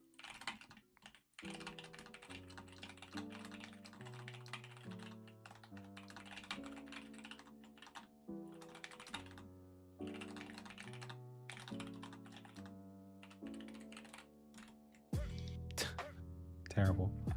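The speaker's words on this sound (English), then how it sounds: "this is a test to see how fast I can type on this keyboard" Rapid clicking of fast typing on a computer keyboard, a close, continuous patter of keystrokes running beneath steady background music, with a louder burst near the end.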